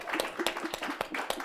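Sparse clapping from a small audience at a conversation event with Maryland's commerce secretary, a handful of distinct claps in an uneven rhythm, fairly close and not very loud.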